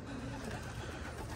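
Racing pigeons cooing at their loft, a soft continuous murmur of coos from several birds close by, with faint background noise.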